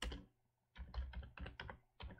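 Keys clack on a computer keyboard while a value is entered into a QGIS map attribute field, a short burst, a pause, then five or six quick close keystroke bursts.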